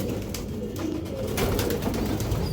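Breeder pigeons coo steadily and close by, their low rolling calls overlapping in a dense, continuous murmur with no pauses.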